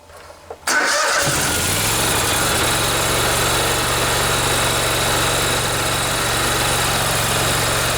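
A Kohler Command 20 small engine, running with some oil drained after a smoking muffler fault, fires up and settles into a steady, loud, continuous drone and rattle close by.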